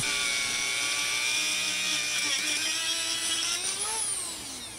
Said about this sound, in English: then I used my Dremel to very carefully cut along that line